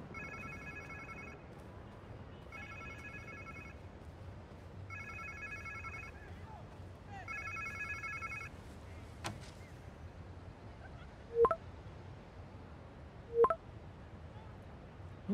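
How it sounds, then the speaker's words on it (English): A phone rings in Marvel's Spider-Man 2, four evenly spaced electronic trilling rings, fairly quiet, followed by a couple of sharp clicks. "Sounds like somebody's phone."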